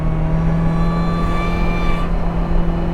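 Supercharged Mazda NB Miata engine held at half throttle on a track, a loud sustained drone with steady whining tones and a slight pitch shift, heard from inside the car with no talk.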